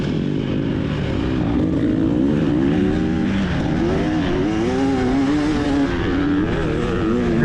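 A race car in the TORCS racing game closes in from behind, its engine a steady loud drone with rising and falling pitch sweeps as the throttle changes, continuous throughout with no talk.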